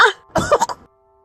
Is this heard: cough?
yes